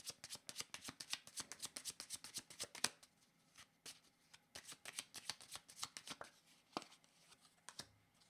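Tarot cards being shuffled by hand, a close, quick run of crisp riffling flicks that slows into scattered single snaps, with no talking.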